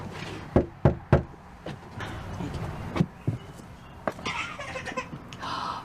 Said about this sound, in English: Someone knock on the door before the ballots are counted